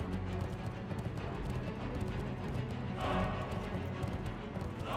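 Horse hooves clip-clop steadily in World of Warcraft, a continuous even patter under a dense game soundscape, with a brief rise in brighter noise partway through.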